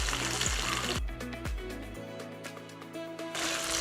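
Curry chilies dropped into hot oil in a Jaffna village kitchen, a few sharp splashy sizzles at the start settling into a quieter frying hiss with faint clinks.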